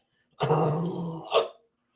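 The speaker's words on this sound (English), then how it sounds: "I have a bad cough" A single rough cough, a throaty burst lasting about a second, followed by a short sharper catch at the end.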